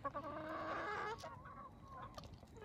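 Chickens and roosters on a hilly rural farm cluck loudly and closely for about a second, followed by scattered, quieter calls and short clucks with no talking.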